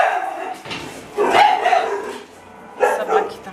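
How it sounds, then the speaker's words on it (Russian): Dogs bark around a house in Spain in a few sharp, separate bursts at moderate distance, with quieter gaps between them. "Собаки там, у меня все открыто."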